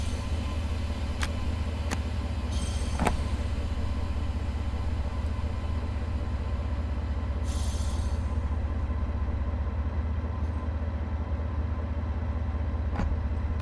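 A DB BR 363 V 60 diesel shunter in Deutsche Bundesbahn blue livery idles in a train simulation game, a steady low diesel drone with occasional faint clanks and hisses.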